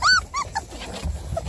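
Four-week-old beagle puppies give a few thin, high whimpers and yips close by, short rising cries spaced over a second and a half on a farm.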